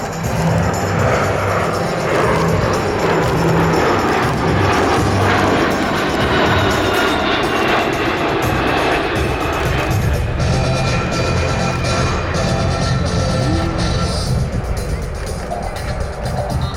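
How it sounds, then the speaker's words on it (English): A USAF C-17 Globemaster III makes a high-speed pass at the Abbotsford Airshow. Its engines give a loud, continuous jet roar that builds and holds throughout with no talk. "From the left, the high-speed pass of the C-17."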